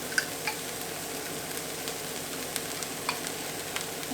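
Softened vegetables sizzle quietly in a pan as hoisin sauce goes in, a steady low frying hiss broken by faint scattered clicks and stirring taps, with no speech.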